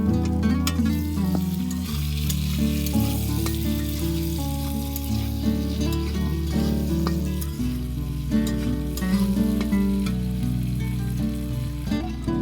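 Potatoes frying with onion and garlic in a pan as a tomato is added, giving a steady loud sizzle with a shift in tone partway through, the oil crackling continuously and no voices.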